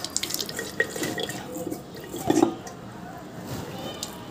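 Water runs and splashes into a sink while rinsing, a steady trickling stream with a brief louder gush near the middle; soft background voices murmur at times.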